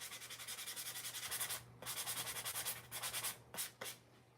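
A sanding block rubs back and forth over a polymer coaster in quick, rhythmic close-up strokes, a dry scratchy rasp that pauses briefly between passes.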